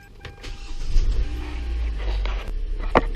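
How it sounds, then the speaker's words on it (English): A Hyundai Elantra's engine cranks and catches, then settles into a steady low idle heard up close, with a small click near the end and no talking. "Gonna go ahead and start the car."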